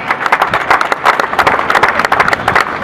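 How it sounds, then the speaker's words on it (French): Audience clapping for Sandro Meurice, Lotto Belisol U23 rider and winner of the third stage of the 48th Triptyque ardennais at the Trooz finish line: dense, steady outdoor applause with no clear speech over it. "Je vous demanderai d'applaudir Sandro Meurice."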